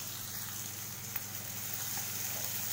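Onion and green chili frying in hot oil with mustard seeds, a steady, faint sizzle with soft crackles running continuously, no voices over it.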